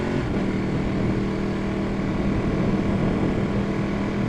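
A Ducati 1199 Panigale motorcycle engine droning steadily while riding, a continuous loud low rumble with wind noise and no break.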